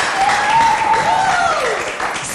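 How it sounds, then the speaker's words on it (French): An audience at a music show applauds a look-alike performer. Loud, close clapping is mixed with a rising and falling shout or whistle that cuts through the crowd noise. "Est-ce qu'on peut encore l'applaudir très fort"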